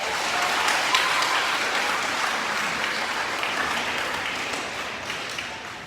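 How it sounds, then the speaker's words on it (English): A middle school audience at a 7th and 8th grade awards program claps steadily for student award winners, a dense, sustained wash of applause that fades slightly toward the end. "Can you give them a round of applause?"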